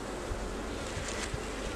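Agitated honey bees swarm around an open hive during a fall inspection, a dense, steady buzzing drone close by with a few louder passes of individual bees.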